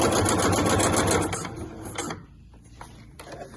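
A sewing machine stitches a 3.5 length stitch on folded scrap fabric, a close rapid mechanical whir of needle strokes for over a second, then slowing and stopping, leaving a few faint clicks.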